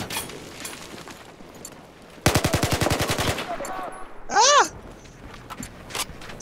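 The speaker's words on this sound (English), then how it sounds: "Enemy machine gun." Automatic gunfire from an enemy machine gun in Battlefield 4 during a Conquest match on Paracel Storm, a loud rapid burst of about a dozen shots amid game noise, followed by a rising warbling electronic tone.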